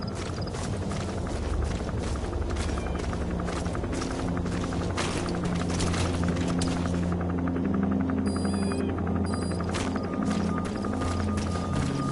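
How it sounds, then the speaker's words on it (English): A helicopter sets down in the video game Metal Gear Solid V, its steady rotor throb and engine hum rolling on for several seconds, loud and continuous, with a few faint electronic game tones toward the end. "There's a chopper landing."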